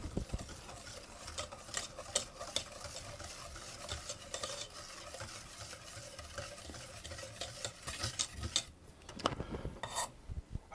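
Caster sugar and cocoa powder get stirred together for a Guinness cake, a faint, steady scraping and rubbing of a utensil in a bowl with occasional louder taps, with no voices.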